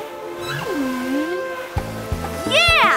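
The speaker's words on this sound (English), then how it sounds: "it's a whale!" A cartoon whale sings long, swooping moans over a soft ocean backdrop, joined near the end by a few thudding music hits and a rising warble.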